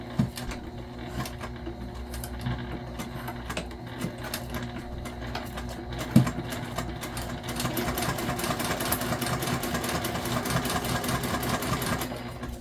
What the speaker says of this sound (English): So we're just basting our zipper on before we attach the lining.